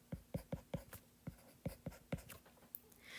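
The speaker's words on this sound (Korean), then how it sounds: "번호를 1번으로 적을게요" Pen or marker strokes tapping and scratching against a surface in a quick irregular rhythm, close and fairly quiet, with no talking.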